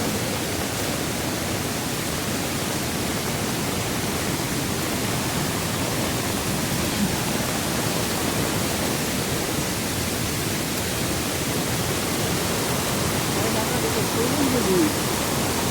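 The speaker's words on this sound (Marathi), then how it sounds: "कसलं सुसाट पाणी आलंय" Konkan river in heavy flood, fast water roaring loud and close in a constant broadband wash, with spray and churn throughout and a faint voice briefly surfacing near the end.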